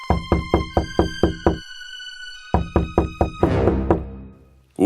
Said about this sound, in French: Le loup frappa à la porte.